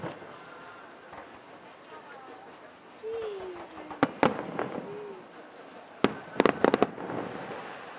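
Fireworks bursting over a neighborhood during a large public display: a few distant booms, then sharp cracks in quick clusters, with people talking and exclaiming faintly throughout.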